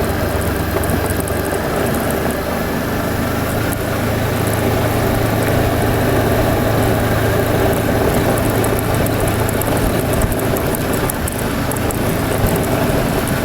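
A motorcycle engine runs steadily while riding along a dirt road among vineyards, a continuous mid-pitched drone with constant vibration and rumble, loud and close throughout.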